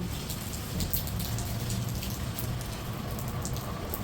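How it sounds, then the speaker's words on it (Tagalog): Heavy rain pours down outdoors as a dense, steady hiss of countless drops pattering on surfaces. It stays loud and unbroken throughout, with no voices. "Dahil sobrang ulan guys, oh. Umuulan talaga."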